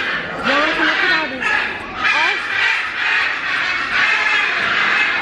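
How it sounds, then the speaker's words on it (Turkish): Parrots in an aquarium give loud, nasal honking calls, several squawks in quick bursts over a murmuring indoor background. "Papağanların böyle bir sesi var mıydı"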